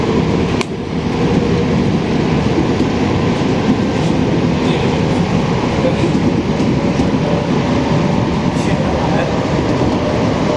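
A Montreal Metro Green Line train rumbles steadily along the rails, a loud continuous roar with faint rattles and occasional high squeals from the wheels.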